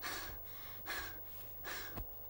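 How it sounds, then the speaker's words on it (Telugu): A person breathing in heavily, three quiet, drawn-out gasping inhales spaced roughly evenly, close and faint, with no speech. "మళ్ళీ అదేంటి ఊపిరి పీలుస్తున్నావు?"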